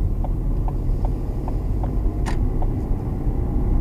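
A car engine hums steadily while driving through Castlemungret in Limerick, with a low continuous rumble, a regular ticking of the indicator and one brief click as the driver shifts down to second gear.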